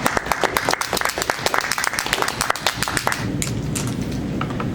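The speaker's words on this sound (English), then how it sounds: "Give a round of applause." An audience at a Toastmasters club meeting claps in a round of applause, crisp individual claps from a modest group that blend into a softer steady patter.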